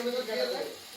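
Leafy greens frying in a pan as their released water cooks off, giving a steady close hiss and crackle of sizzling throughout, with no voices.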